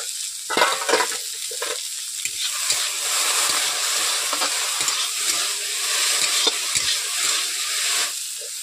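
Okra frying in a pan with salt and turmeric, a steady loud sizzle running throughout with scraping stirs of a spatula at intervals, close up and with no talk.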